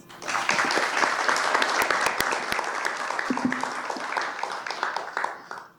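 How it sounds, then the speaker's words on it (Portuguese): A round of applause at the Prêmio Equilibrista 2022 finalists' presentation: a steady, moderately loud patter of many hands clapping, with a few sharper individual claps standing out, lasting almost six seconds. "Eu pedi uma salva de palmas."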